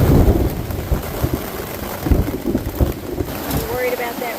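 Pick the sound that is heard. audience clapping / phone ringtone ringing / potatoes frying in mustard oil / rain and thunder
rain and thunder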